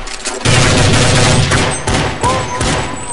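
An MP5 submachine gun fires in Counter-Strike 1.6, a loud, rapid burst of automatic shots that goes on for about three seconds, with a few sharper cracks near the end.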